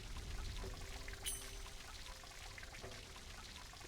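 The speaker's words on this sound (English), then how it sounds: "Fill the jug to the brim." Water poured into a jug in the puzzle game Lost Horizon 2, a steady splashing fill with a faint rising trickle over low background, no talk.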